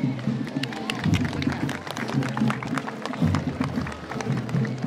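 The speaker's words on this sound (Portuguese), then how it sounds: "aplausos para a Escola Estadual Mariana Cavalcante" A crowd applauds at a civic parade for Brazil's 7 September Independence Day, honoring a state school. The clapping is dense and sustained, with voices and low background sounds mixed underneath.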